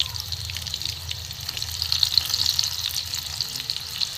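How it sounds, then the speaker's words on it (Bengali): Pieces of chal kumro (ash gourd) coated in flour batter fry in hot oil, giving a steady, close sizzle and crackle with small spits rising and falling throughout, alone without any talk. "এবার তুলে দেবো, পুরো ভাজা হয়ে গেছে"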